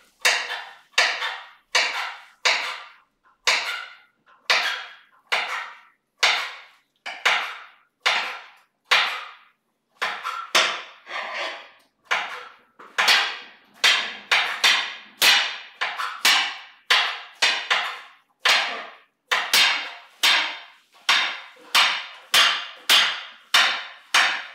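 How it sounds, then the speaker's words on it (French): A knife chopping food on a cutting board in a home kitchen, with sharp, close, rhythmic chops repeating roughly every second for the whole stretch and no talk. "je veux que ça fasse comme pour Etchebest sur M6, où quand il coupe, on entend."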